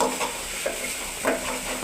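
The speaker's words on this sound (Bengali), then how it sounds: "এখন শাকটাকে নাড়ে বেশি না, 2 মিনিটের মতো ভেজে নেব। বেশি ভাজতে হবে না। শাক ভাজা হচ্ছে।" Leafy greens (shak) stir-frying in a pan give a steady hiss and sizzle, with a few soft stirring scrapes coming through close by, and no voices.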